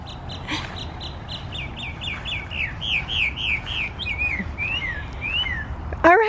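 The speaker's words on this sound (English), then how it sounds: "Oh, I could just listen to that mockingbird all day." A mockingbird sings outdoors by garden beds, a clear run of repeated whistled and chirped phrases over soft background noise, with a sharp louder call at the end.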